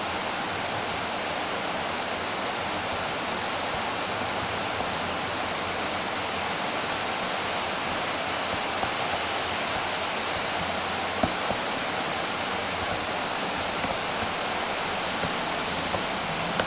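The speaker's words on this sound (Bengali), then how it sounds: "তোমরা চাইলে ঠান্ডা জল দিয়েও মিক্সিতে ব্লেন্ড করতে পারো।" An electric mixer grinder blends biscuit pieces with hot water for a cake, giving a steady, loud whirring rush that runs unbroken throughout with no voices.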